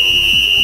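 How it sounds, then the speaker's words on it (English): A swim meet referee's whistle sounds once as a single sustained, steady, piercing tone that holds for the whole moment over a murmuring indoor pool hall. "the referee will blow the whistle once"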